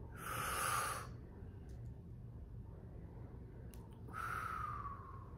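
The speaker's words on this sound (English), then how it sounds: "we're going to breathe in and breathe out to get our day started" Two slow, deep breaths, a long loud exhale at the start and another toward the end, with quiet room tone between them and no talking.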